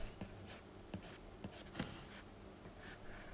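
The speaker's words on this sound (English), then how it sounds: "It sounds like drawing with a pencil on paper." An Apple Pencil drawing on an iPad fitted with a PaperLike matte screen protector makes scratchy, papery strokes, several short scribbles in a loose rhythm, close and clear with no voices.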